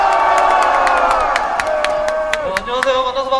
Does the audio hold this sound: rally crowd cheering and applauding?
yes